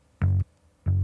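Bass guitar captured by a microphone on its amp, two short deep plucked notes separated by a brief gap, close and solid.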